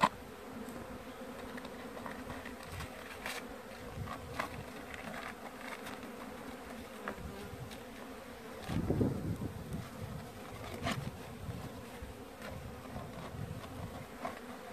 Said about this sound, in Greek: Επειδή πάντα έχουμε μελίσια μέσα στη κυψέλη